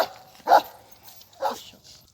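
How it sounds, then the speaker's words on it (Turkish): A female Kangal dog gives two short, moderate barks about a second apart, with quiet background between them. "Bu da az önce hani kangal dediğimiz köpek dişi bir kangalımız ismi Hayal"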